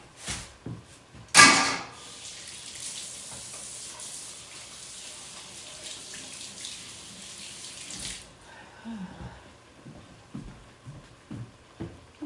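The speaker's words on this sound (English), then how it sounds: "I got to go wash my hands and get rid of this" A kitchen tap runs into a sink while hands are washed beneath it, a loud steady gush for several seconds, then the water stops and scattered clicks and small handling knocks follow.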